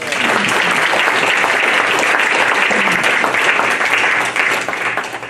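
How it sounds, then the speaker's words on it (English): A large audience applauds a group of kids at a youth program event in Chicago Heights, steady, loud and continuous clapping that holds for several seconds before thinning out near the end. "let's give these kids a round of applause"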